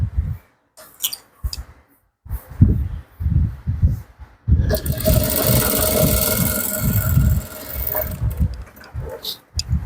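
A sewing machine stitches neck piping on an Ankara top, starting with short stop-start bursts, then running in one steady whirring stretch of a few seconds before slowing into brief spurts again, close and fairly loud.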